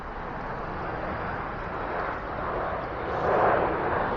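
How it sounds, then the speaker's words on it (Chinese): A Shanghai Airlines airliner comes in to land at Shanghai Hongqiao Airport, heard from a riverside viewing promenade as a steady broadband jet roar that swells toward the end as the aircraft nears. "果然又一架上海航空的航班降落了。"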